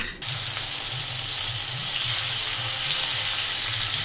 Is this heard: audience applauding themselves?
no